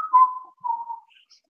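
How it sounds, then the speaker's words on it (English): A lone whistled call heard as something approaches in a dark fantasy tale, two sustained mid-pitched notes in succession, clear and fairly close, ending in a faint higher blip. "there's like this whistle"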